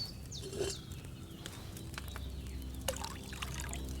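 Water pours into a brewing pot in Kingdom Come Deliverance 2, a short trickling pour amid soft game ambience with a few bird chirps.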